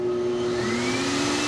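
A pet hair dryer runs at steady full power while drying a dog, giving a continuous close, loud whine with a rising tone throughout and no voices.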